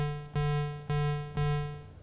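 Three evenly spaced synth notes from an Arturia MicroFreak with unison mode off, each a bright attack fading into a thin, steady harmonic tone, clear and alone.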